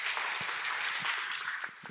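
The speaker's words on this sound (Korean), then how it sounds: "노태경 대표 박수로 한번 맞겠습니다." An audience gives steady applause to welcome a startup investor speaker at a Wednesday worship service, a dense, continuous wash of clapping that fades slightly toward the end with no talking over it.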